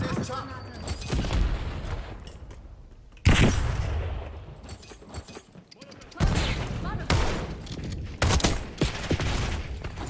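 Gunfire in Call of Duty Black Ops 6 arrives as repeated sharp bursts and volleys with sudden loud shots between quieter gaps, while a voice talks faintly underneath.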